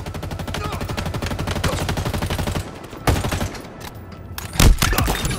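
Rapid automatic gunfire in Halo Infinite, a long steady stream of fast shots, then a pause followed by a few heavier single blasts, loud and close.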